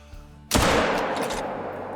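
A single loud rifle shot fired at a coyote in the hunting game Call of the Wild, a sudden sharp blast followed by a long rumbling echo that slowly fades.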